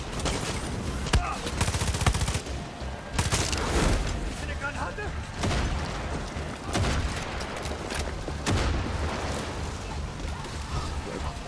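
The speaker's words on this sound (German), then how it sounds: "Alles explodiert und ich weiß nicht warum." Explosions and rapid gunfire from the video game Far Cry 6 during a grenade-launcher fight, loud repeated blasts and bursts of shots throughout, with someone talking over the action.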